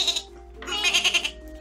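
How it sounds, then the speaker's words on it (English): Goat bleating heard in two bursts, a short cry and then a longer wavering, quavering bleat, close and clear with no talk over it. "Goats!"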